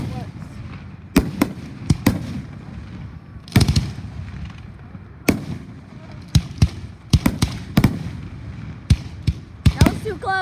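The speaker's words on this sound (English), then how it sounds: "Look at them fireworks." Fireworks at an outdoor show bursting in a rapid irregular series of loud, sharp bangs and crackles, some close and some farther off, with people talking and calling out between the blasts.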